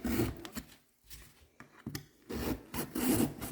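A fillet knife slicing through the metal casing of a used Parts Master oil filter, with close scraping, rasping strokes in bursts separated by short quiet gaps.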